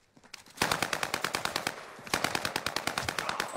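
Rapid automatic gunfire in a video game, two sustained bursts of evenly spaced sharp shots, loud and close, with a short dip between them.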